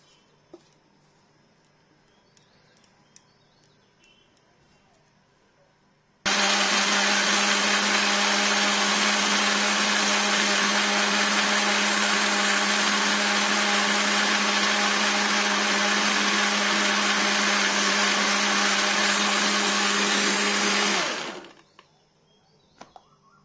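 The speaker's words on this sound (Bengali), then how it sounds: "এবার এটাকে মিক্সিতে পেস্ট করে নেবো।" Mixer grinder whirs loudly and steadily for about fifteen seconds while grinding soaked dhokla batter to a paste, starting abruptly and winding down at the end, with quiet before it.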